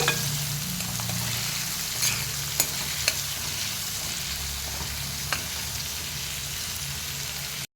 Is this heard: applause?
no